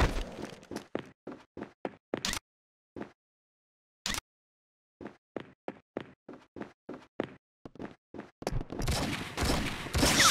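Rapid gunfire from a shootout on New York streets in True Crime: New York City, crisp sharp bursts in quick irregular volleys with a couple of pauses, ending in a dense noisy clatter.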